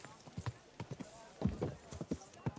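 Horse hooves clip-clop at a slow, uneven walking pace through mud in Kingdom Come Deliverance 2, with repeated soft, thudding hoof falls close by and faint talk over them.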